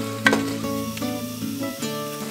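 Onions fry in a pan with a steady close sizzle, broken by a few stirring scrapes and clinks over a low background hum; nobody speaks.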